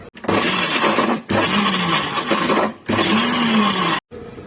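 A mixer grinder jar whirring as it blends chicken into paste: three loud grinding bursts separated by short pauses, each a harsh, dense motor roar with a wavering pitch, and no voices.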